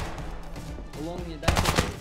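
Shotgun fire in a team shooter video game gives a few close, sharp bursts near the end, following rumbling game noise and a brief tonal effect.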